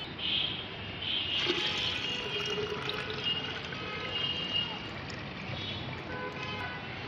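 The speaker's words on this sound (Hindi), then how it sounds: "जितना भाग फर्टिलाइज़र का है उसका 5 गुना मैं इसमें पानी मिलाऊंगी" Plain water pours steadily into a container to dilute liquid plant fertilizer, a continuous splashing, gurgling stream heard up close and fairly loud for several seconds.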